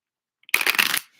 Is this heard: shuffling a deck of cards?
yes